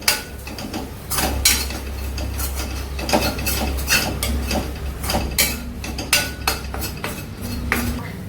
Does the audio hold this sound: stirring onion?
yes